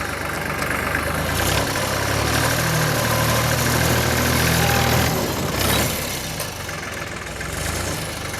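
A Ford 8N or Deutz Allis 5220 tractor engine labouring under load in a lower gear, a steady, loud, low throbbing drone that holds firm and then eases slightly near the end.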